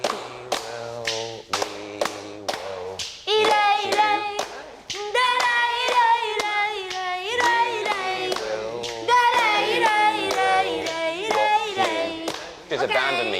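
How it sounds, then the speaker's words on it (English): Flamenco palmas hand claps and foot stamps from a cultural class beat out a rhythmic pattern, with sharp, close claps over music and singing voices. "palmas, flamenco's distinctive hand claps and stamps"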